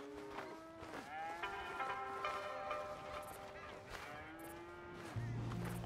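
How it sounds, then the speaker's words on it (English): Cattle lowing on a ranch in Red Dead Redemption 2, several drawn-out moos overlapping and fairly close across the whole stretch, over steady game ambience. "Here's the cows."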